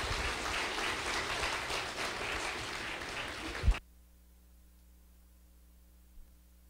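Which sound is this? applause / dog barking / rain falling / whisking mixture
applause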